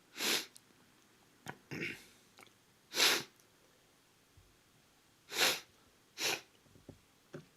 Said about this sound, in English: Sorry for the sniffles, it's a little cold out.